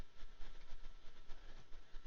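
Train rolling along in OpenTTD, a steady, low, continuous rumble with a faint hiss and soft rhythmic pulses, quiet and unbroken throughout with no voices.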